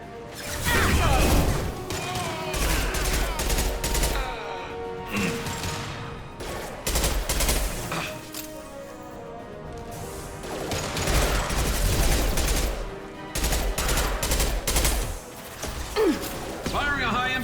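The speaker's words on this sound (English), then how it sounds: "Firing a high-impact shot!" Bursts of rapid gunfire from the video game Mass Effect 2, repeated volleys of loud cracking shots and impacts with short pauses between, mixed with game effects and occasional voices.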